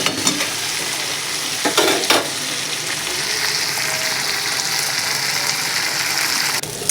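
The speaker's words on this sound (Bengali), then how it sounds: "করলা আলু ভাজাটাকে ভেজে নিচ্ছি ভালো করে" Bitter gourd and potato frying in a pan in a home kitchen, a loud steady sizzle that runs throughout with occasional stirring scrapes and clatters, no talk.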